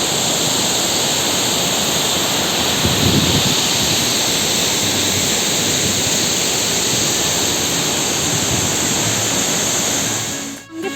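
Changey Falls near Kolakham sends a steady roar of rushing water close by, a dense, unbroken wash of sound that runs without pause until a brief dip at the very end.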